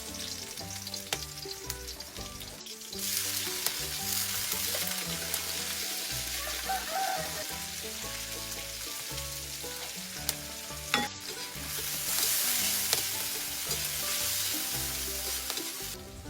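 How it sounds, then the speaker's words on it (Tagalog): Garlic, onion, tomato and smoked fish sautéing in a pan, a loud continuous sizzle with frequent scraping and stirring strokes, close up, swelling louder partway through, with no voices. "ginisa ko na nga ang bawang sibuyas, kamatis at maging yung tinapa"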